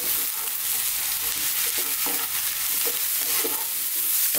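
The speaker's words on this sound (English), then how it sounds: "Fresh mushrooms. And again, high heat, about another 3 minutes, throwing these around." Fresh mushrooms stir-fried over high heat in a pan for bok choy and mushrooms, a loud steady sizzle with rhythmic scraping and tossing as they are moved around.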